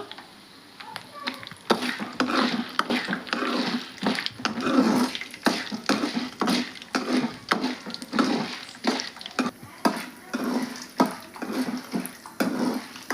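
Urad dal frying in hot oil for stuffed brinjal fry, a steady crackling sizzle with repeated sharp pops and clicks, close and moderately loud, running continuously without talk.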